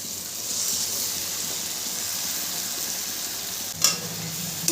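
Mustard greens and spinach mixed with gram flour are stirred in a frying pan over onion, garlic and tomato, giving a continuous soft sizzle and hiss with an occasional scrape of the spatula near the end.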